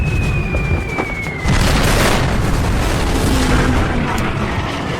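Bombs and rockets, including 1,000-pound bombs and eight rockets dropped by Helldiver dive bombers, striking the battleship Yamato: a sustained, loud roar of blasts and rumbling after a brief whine, with no talk.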